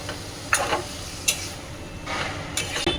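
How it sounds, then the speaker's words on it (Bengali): Taro stalks and chickpeas go into spices frying in a pan, with a steady sizzle under several sharp stirring scrapes and clacks of a utensil, close up, no talk. "এখন দিয়ে দেবো কচু ডাঁটাগুলো আর দিয়ে দেবো ছোলা"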